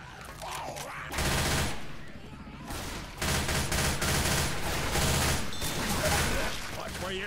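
Sustained rapid gunfire from a Left 4 Dead match, dense bursts of shots running almost continuously and loudly, dipping briefly before resuming, with game noise and faint voices mixed in.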